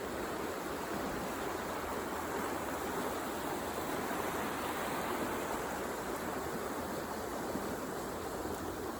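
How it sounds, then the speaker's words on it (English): Water flows in a stream beneath a snowy park bridge, a dense, steady rushing hiss that holds at an even level throughout with no other sounds. "And do you hear the water?"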